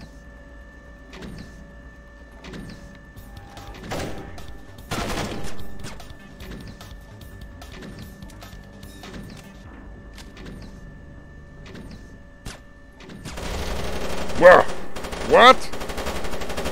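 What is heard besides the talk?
gunfire in the video game Splinter Cell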